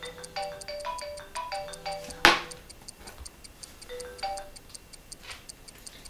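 A phone rings with a repeating electronic melody against a faint ticking background, one sharp clatter midway, before the call is answered.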